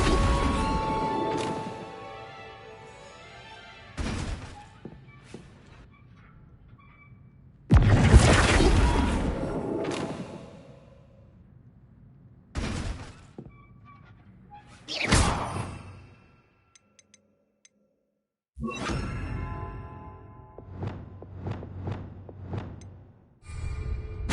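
Incendio and Flipendo spells hitting a training dummy in Hogwarts Legacy, several separate whooshing casts and thumping bursts spaced apart with quiet gaps between them, close and fairly loud.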